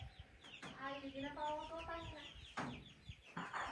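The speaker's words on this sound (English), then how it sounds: "One of these native ones just came in here and is attacking the chicks." Chickens cluck and squawk close by as a wiry native fighting rooster gets in among chicks at a house in the Philippines, making a burst of harmonic clucks and sharp calls with some background noise.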